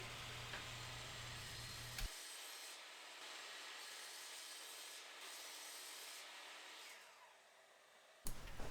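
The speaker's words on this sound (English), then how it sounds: "First cutting to length at the miter saw" A miter saw cuts beech dowels to length, giving a steady, fairly quiet whirring drone that runs unbroken for about eight seconds before it cuts off, with no talking.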